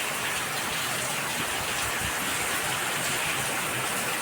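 Heavy monsoon rain pours down steadily in a Gujarati village setting, a dense, continuous hiss of drops hitting ground and surfaces, close and even throughout with no voices.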